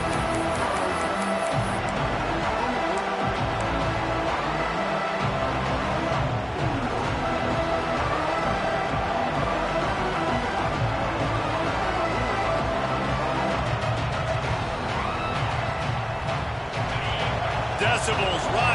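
A football stadium crowd roars continuously and loudly on third down during a USC versus Arkansas college game, with dense cheering, scattered thumps and an announcer talking over the noise.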